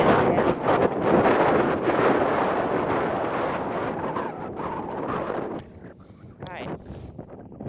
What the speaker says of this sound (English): Watch how windy it is here.